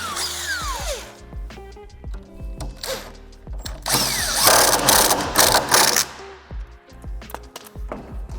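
A hex tool being turned while refitting a bicycle crank, giving close ratcheting clicks and metallic mechanical clatter in bursts, with a louder grinding stretch in the middle and no talking.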